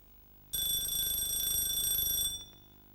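A kitchen timer alarm rings steadily for about two seconds with a bright, continuous electronic tone, then cuts off abruptly, with no talking over it.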